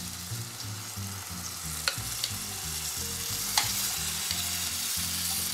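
Beans with their liquid sizzle in a pan with onions, a steady close frying hiss broken by a few sharp pops and the scrape of stirring.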